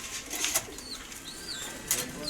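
A pair of ringed club racing pigeons coo softly at close range, with a few short airy bursts of noise and faint background sounds.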